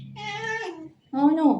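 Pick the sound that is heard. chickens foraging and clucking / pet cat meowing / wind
pet cat meowing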